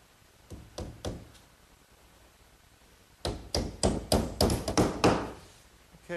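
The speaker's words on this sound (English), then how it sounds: "And I'll fasten it with these little 5-penny box nails." Small 5-penny box nails are hammered into the back panel of a bookcase cabinet: a few spaced taps, a pause, then a quick run of sharp, close hammer blows with no speech.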